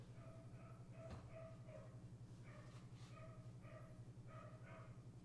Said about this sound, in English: There is a dog going crazy out.